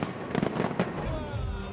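New Year fireworks display at the London Eye, sharp bursts and crackling pops in quick succession, followed by a rolling boom and crowd noise.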